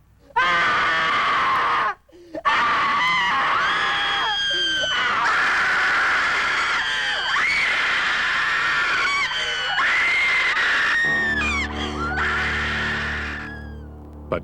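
A film audience lets out long, loud, sustained screams and wails in repeated waves, nearly continuous and piercing, with a brief gap early on.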